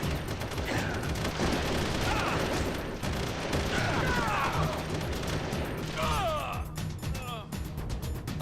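Sustained gunfire in Metal Gear Solid: The Twin Snakes on GameCube, a dense continuous barrage of shots layered with mechanical clatter and game effects, loud and steady throughout.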